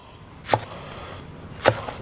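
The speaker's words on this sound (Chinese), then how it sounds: "切点葱。" A kitchen knife chops scallions on a cutting board with two sharp, separate strikes about a second apart, fairly quiet and close, with no talk.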